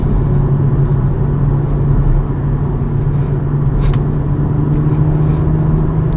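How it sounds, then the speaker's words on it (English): BMW M135i pulling hard in fourth gear on a Northern Scotland road, with a steady loud engine drone and road rumble building evenly from inside the cabin. "Mirrors again, 4th gear is okay, and I'll start building the acceleration up."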